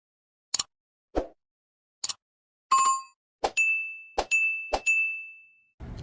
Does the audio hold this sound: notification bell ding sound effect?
yes